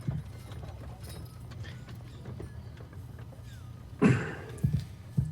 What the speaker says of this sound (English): Baron Song rides his horse up near her, forcing her out of his way